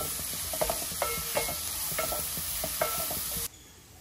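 Chopped onion stirred in a sizzling frying pan, with a steady fry hiss and a series of light spatula scrapes and taps through most of the stretch before it cuts off abruptly.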